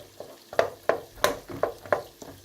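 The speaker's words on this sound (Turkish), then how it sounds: "harmanladım karıştırıyorum evet biber salçası" Bulgur pilaf with pepper paste being stirred in a pan, six or so rhythmic scraping stirs over a soft sizzle, close and clear with no talking.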